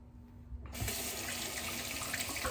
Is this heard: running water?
yes